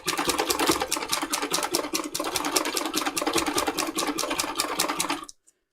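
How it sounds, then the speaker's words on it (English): A sewing machine doing free motion embroidery, stitching a circle onto a junk journal cover: a fast, steady rattling clatter of needle strokes running for about five seconds before stopping abruptly, close and alone without talk. "I generally just sew a circle"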